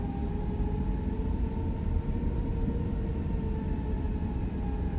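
Steady engine drone of an Airbus A320 airliner taxiing in the Fenix A320 flight simulator, a constant rumble with a faint sustained tone above it, unbroken and without talk.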